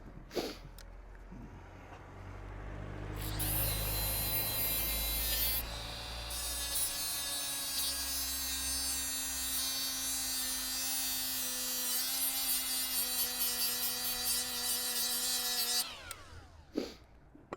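A power tool grinds the rivet head off a Yamaha MT 125 motorbike chain, a steady high whining cut held for about twelve seconds after the motor spins up, then winding down, close and fairly loud with no voices.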